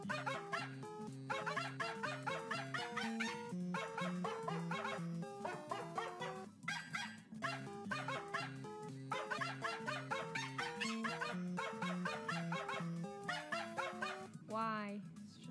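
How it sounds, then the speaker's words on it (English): A dog howls and yips along with recorded music, its pitched barks and whines riding over a steady melodic tune throughout, fairly loud and continuous with short pauses between musical phrases. "The barking dog that barks to all the different songs."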